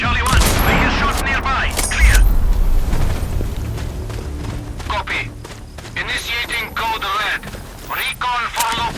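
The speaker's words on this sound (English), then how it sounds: "I hear shots nearby" Bursts of gunfire in the video game Sniper Ghost Warrior Contracts 2 crack through a busy game soundscape, with radio-style voices talking over the shots and a dense, loud mix throughout.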